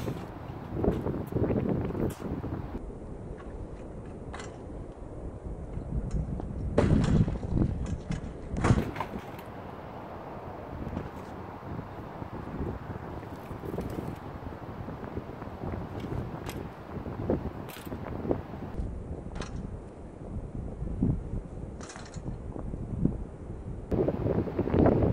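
Low, rumbling wind buffets a microphone in uneven gusts at a cold outdoor skatepark for the whole stretch, loud and close, with occasional thuds and no speech.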